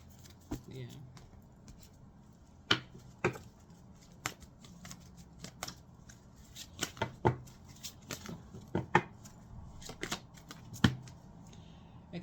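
Tarot cards being shuffled by hand, a series of crisp riffling snaps and soft slides at an irregular pace, close and fairly quiet, with occasional faint talking between the bursts.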